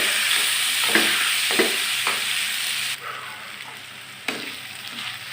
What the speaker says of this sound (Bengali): এখন আমি নুডলসটা দিয়ে ভালো করে ভাজা ভাজা করে নিচ্ছি।